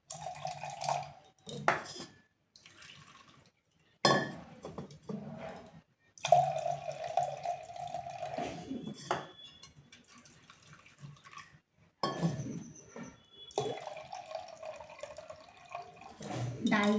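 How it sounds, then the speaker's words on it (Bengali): Lentils (dal) rinsed in a kitchen sink under running tap water, intermittent splashing and trickling bursts separated by quiet gaps, with a voice speaking at times. "ডাল ধোয়া আমার কমপ্লিট।"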